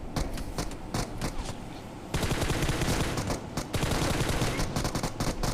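Rapid UMP submachine-gun bursts from a PUBG match, dense repeated volleys of gunfire that fill the whole stretch, loud and close with a short pause in intensity before the firing picks up again.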